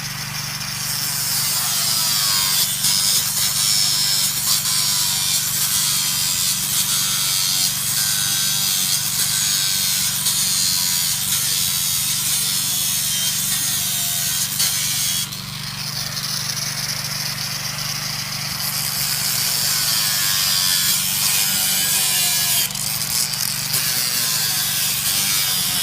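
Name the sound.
angle grinder with disc cutting fence end pieces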